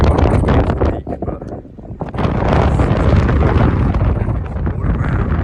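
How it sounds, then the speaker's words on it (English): Strong gusts buffet the microphone on a hilltop on the Isle of Mull, a loud low rumbling roar that dips briefly, then surges back and holds steady. "It's a bit windy"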